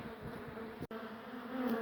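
A dense swarm of bees hums steadily and closely around a hive being relocated, a continuous buzzing drone with a brief dropout partway through.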